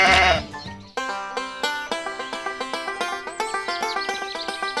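A sheep bleats in a rapid run of wavering, pulsing calls, loud and close, starting with a harsh burst and then settling into a steady repeated quaver.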